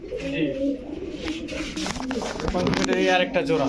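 Pangkhi fat pigeons, a running pair of male and female, coo in soft repeated throaty calls close by, with someone talking over them throughout.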